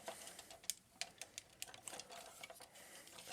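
Ratcheting shoulder joints on a Master Made SDT-08 Demolisher transforming robot toy click in quick, faint, close-up bursts of small plastic ticks, with no talking.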